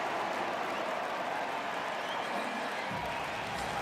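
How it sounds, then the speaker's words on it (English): Baseball stadium crowd at a Tigers–Brewers game clapping and cheering after a line-drive base hit, a steady broad wash of applause and crowd roar holding level throughout. "And that'll get the crowd standing up and clapping. It's the sympathy cheer."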